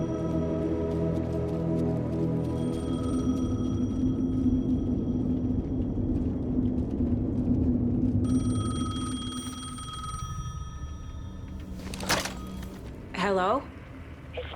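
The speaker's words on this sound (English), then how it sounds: "The payphone was ringing" Payphone ringing in the video game Alan Wake 2, a sustained trilling bell ring at close range that starts later in the clip after a long low rumbling ambience, with a few sharp metallic clunks near the end and a voice speaking.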